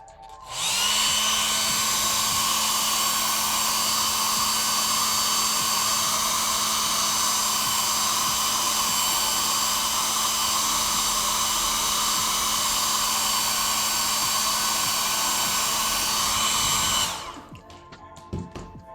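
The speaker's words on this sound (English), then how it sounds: "Okay, it's hairdryer time. I'm gonna just give this a little bit more incentive to dry off, so plug your ears." A hair dryer blows on a wet watercolor portrait, switching on with a loud, steady high whine that holds for about sixteen seconds before cutting off, close and alone.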